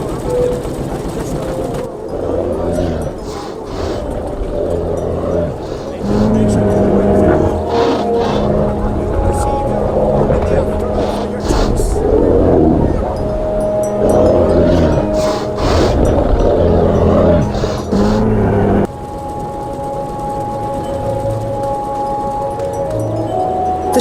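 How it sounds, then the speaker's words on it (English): Steam machinery in the video game Dreamfall: The Longest Journey churns loudly with a dense mechanical rumble, clanks and hissing bursts, continuous throughout while a voice talks over it. "The steam machinery looks brand new. But what's it for? It doesn't look to be doing anything except make a lot of noise."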